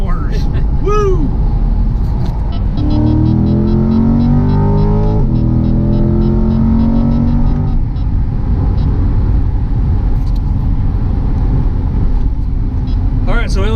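A 2020 Chevrolet C8 Corvette drives hard through corners at about 1G, its engine roaring loud and close with rising and falling revs, a shift-like change midway, and voices talking over the engine throughout.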